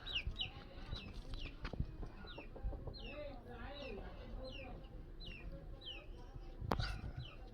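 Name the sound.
chickens clucking on a farm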